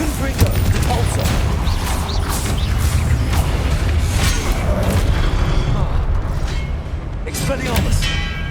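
Spells cast in the Hogwarts Legacy video game go off as loud booms, crackling blasts and whooshes in quick succession, mixed under an excited voice shouting over the gameplay.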